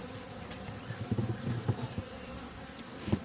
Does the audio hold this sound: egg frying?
no